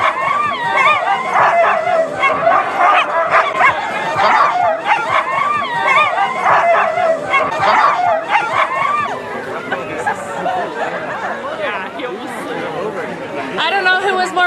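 Sled dogs barking, yipping and whining at the start line of a sled dog race, a dense, loud, continuous chorus close by, mixed with crowd chatter and voices throughout.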